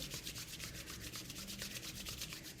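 Palms rub briskly together above the chest to build warmth, a steady rapid swishing friction repeating in quick even strokes, close and soft, with no talking.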